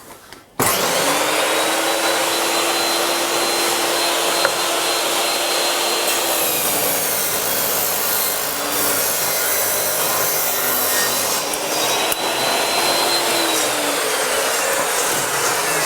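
A saw on a Triton Workcentre WCA201 cuts down a piece of wood for a portable toolbox, a loud continuous machine roar with a rasping edge that dips briefly midway, then carries on close by.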